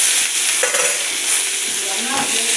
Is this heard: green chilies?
yes